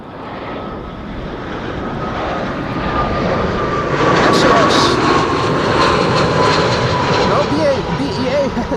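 A British Airways A319 in retro livery arrives on a windy day at Amsterdam Schiphol, its engines a loud, close roar that swells steadily as it approaches, with wind buffeting throughout.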